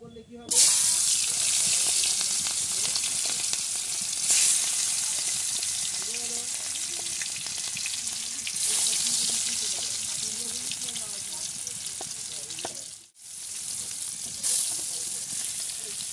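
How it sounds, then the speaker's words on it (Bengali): Fish fry in hot oil in a home kitchen with a loud, steady sizzle and crackle close by. The hiss lasts through the clip, with brief shifts and a short dip near the end. "তোমাদের তেল গরম হয়ে গেছে, মাছগুলো দিয়ে দেবো"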